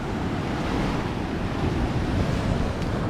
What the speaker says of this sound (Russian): А пока вот такой вам вечерний шторм на набережной города